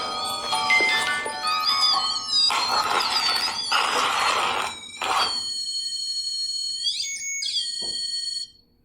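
A REM pod paranormal detector, set off by touch during a ghost investigation, gives loud warbling electronic beeps and rising and falling tones that run for several seconds, then a brief pause and a final sweeping chirp before it falls quiet.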